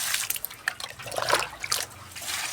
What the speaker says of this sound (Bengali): চলো কলে জল পড়ে যাচ্ছে